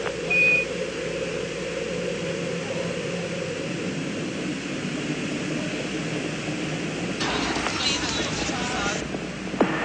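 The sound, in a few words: Space Shuttle Challenger launch, rocket engines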